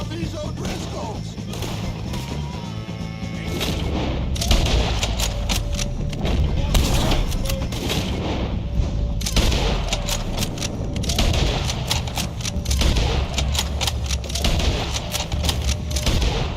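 Repeated gunfire from a shootout with O'Driscoll gang members in Red Dead Redemption 2, dense cracking shots layered over a constant loud battle din throughout, with voices speaking amid the action.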